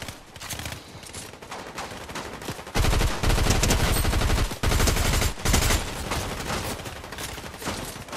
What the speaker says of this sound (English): Who the fuck is shooting at me, though?